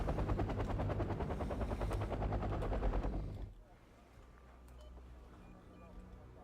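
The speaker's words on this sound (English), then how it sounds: "And yeah, it's a lot of helicopters." Dense helicopter rotor chop mixed with rapid gunfire and battle noise in the video game Wargame: Red Dragon for about three seconds, then dropping to a quieter low engine rumble.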